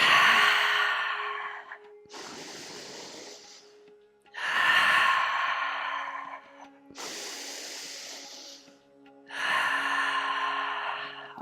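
Deep breaths drawn in and exhaled through the mouth during a guided morning breathwork session, loud breathy rushes alternating with long quieter inhales, close and steady with no talking.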